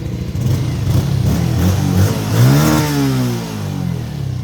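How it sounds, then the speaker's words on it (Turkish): A 2021 Yamaha Crypton S motorcycle engine revs up and then settles back, its pitch sweeping upward and falling off, loud and close with no talking. "Fren, gaz ve motor sesi en önemlisi."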